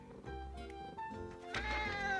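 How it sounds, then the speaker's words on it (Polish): A cartoon kitten meows in a children's animated show, a couple of clear, tonal mews that grow louder toward the end, with no talking. "Na tym obrazku jest kotek."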